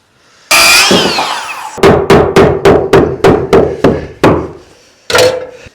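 A hammer tacks wood blocks into place while a cabin is closed up for winter: one scraping knock, then about ten sharp, evenly spaced blows, a short pause and a final strike, all close and loud.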